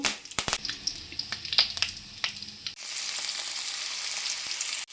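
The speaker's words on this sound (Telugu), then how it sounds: "ఆవాలు కరివేపాకు బాగా చిటిపట అన్న తర్వాత" Mustard seeds and curry leaves splutter in two spoons of hot oil in a pan with rapid, loud popping crackles, then give way to a steady hiss for the last couple of seconds.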